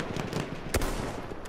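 A sniper rifle shot rings out in the video game Battlefield 1, a single loud sharp crack near the middle, set against steady game background noise.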